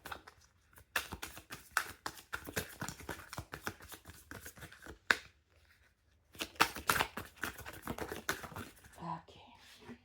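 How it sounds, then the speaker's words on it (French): Tarot cards are shuffled, handled and drawn during a reading, with bursts of crisp riffling and flicking close by, separated by quieter pauses and soft handling noises. "deux dernières cartes là pour terminer le tirage pour les"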